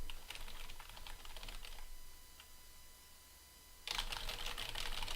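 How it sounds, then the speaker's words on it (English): Hard typing on a computer keyboard while streaming hardware is set up, a rapid run of sharp clicking keystrokes, a quieter pause, then another dense burst of loud clacking. "I'm hitting the keyboard kind of hard"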